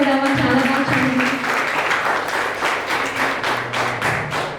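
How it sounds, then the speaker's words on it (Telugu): A church congregation at a Mother's Day Sunday service claps together in loud, steady rhythmic unison, a voice briefly heard as the clapping begins. "అందరూ ఒకేసారి క్లాప్స్ కొడదామా?"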